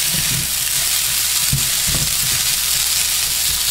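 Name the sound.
rice sizzling as it is stir-fried on stove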